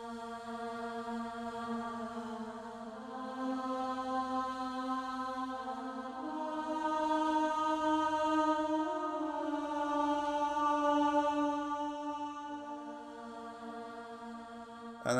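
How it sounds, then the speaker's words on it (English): Sung vocal syllables carry a smooth melody transposed up five semitones, held notes gliding between pitches over about fifteen seconds, steady and clear with no spoken words. "taken the original vocal melody and transposed it up 5 semitones"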